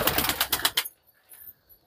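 Pigeons from an old Jaipur breeder's loft make a quick run of loud, rhythmic bursts for under a second, followed by near silence with only faint scattered sounds.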